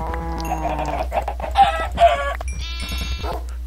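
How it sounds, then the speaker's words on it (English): Chickens in the Minecraft video game clucking in quick repeated bursts, several overlapping calls close and clear over a low steady hum. "Chickens, breed!"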